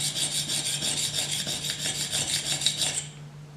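A knife edge scraped back and forth on a diamond sharpening stone, a steady rhythmic rasp of quick, even strokes close up, stopping just before the end over a low constant hum.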